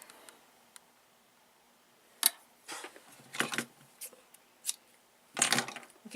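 Scissors snip thread beside a Kenmore 117.552 sewing machine, giving a few brief, crisp close cuts and clicks scattered irregularly over quiet background.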